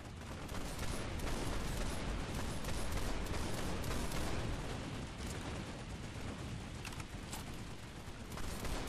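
Rapid, sustained gunfire from a video game infantry training session fills the whole stretch, dense overlapping shots with no pauses and no talk.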